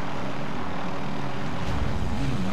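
A helicopter in Call of Duty: Modern Warfare drones steadily with a dense rotor and engine roar, loud and continuous throughout.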